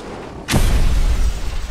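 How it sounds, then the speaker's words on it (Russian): A vehicle in the video game Just Cause 2 explodes, a sudden heavy boom close by, followed by a deep rumbling roar that lingers to the end. "Она еще и взрывается"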